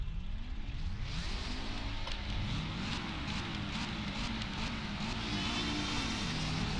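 Toyota FR86 engine in the Assetto Corsa racing game, droning steadily and rising and falling in pitch through repeated revs and gear changes, loud and continuous throughout.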